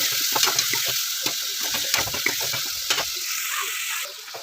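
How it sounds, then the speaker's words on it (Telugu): Tomato pieces sizzle in hot oil with curry leaves and green chillies, a dense, bright crackle that stays steady and close, with small pops and stirring scrapes throughout. "టమోటాలన్నీ మెత్తబడేలా వేయించుకోండి."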